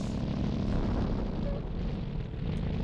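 Fuel tanks bursting after being hit in the tank combat game Sprocket, a broad, rumbling explosion that fills the whole stretch at moderate level, with no speech.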